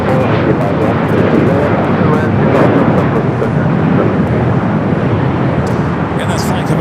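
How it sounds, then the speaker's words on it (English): A Boeing 787-9 Dreamliner from Tokyo Narita arrives at LAX, its jet roar loud and steady from start to finish, with a voice talking faintly underneath. "that's flying coming from Tokyo Narita on the 787-9 Dreamliner"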